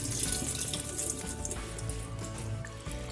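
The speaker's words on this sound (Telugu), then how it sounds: "వాటర్ పోసుకుని నానబెట్టుకుందాం." Water pours in a steady rushing stream over washed lentils in a bowl, set to soak before pressure cooking for sambar, a continuous close splashing with no break.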